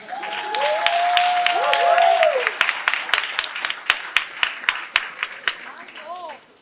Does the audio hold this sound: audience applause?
yes